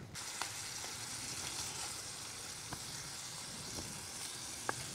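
Cooking oil sizzles in a pan on a camp stove at a wild camp, a steady broadband frying hiss running throughout with a few faint clicks and taps.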